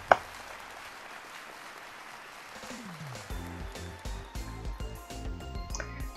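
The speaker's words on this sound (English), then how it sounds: "That sure was a big round of applause." Applause after a lecture in the video game Malus Code: a sharp opening clap, then a few seconds of steady crowd clapping that gives way to rising melodic game music.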